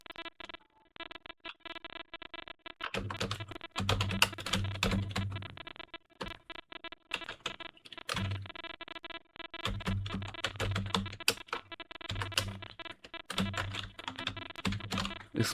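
Keys clattering on a computer keyboard while text is entered into a PowerPoint text box, a steady run of close, crisp clicks in bursts with brief pauses, no talking.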